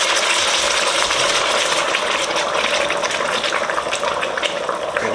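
Pre-boiled water, about 1.5 liters, pours steadily into a pot of meat for Durban curry, a continuous rushing gush that stays loud and even throughout with no talking.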